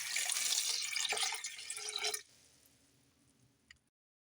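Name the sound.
water poured into pot of potatoes for boiling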